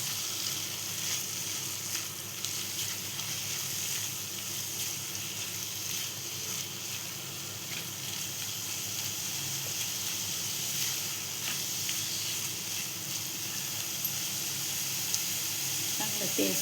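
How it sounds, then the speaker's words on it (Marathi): Spices with onion masala and coriander powder sizzle in hot oil, a steady close frying hiss running throughout with faint stirring scrapes, alone without talk. "ते चांगले परतून घेऊया."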